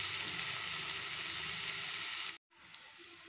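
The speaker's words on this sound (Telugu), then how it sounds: "అదే కడాయిలోకి నేను ఉల్లిపాయను కూడా వేసేసుకున్నానండి। ఇలా 1 స్పూన్ ఆయిల్ వేసుకొని చక్కగా ఫ్రై చేద్దాం వీటిని కూడా।" Onions frying in oil in a kadai give a constant close, bright sizzle that cuts out briefly near the end before resuming softly.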